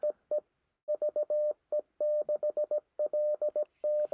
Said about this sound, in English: That's the sound of my keyer.